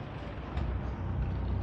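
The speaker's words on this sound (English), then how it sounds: "I got a big truck coming up behind me now" Heavy truck drawing up from behind on a city road during a bike ride to Taguig City, a steady low rumble and broad road noise building slightly louder over the short stretch.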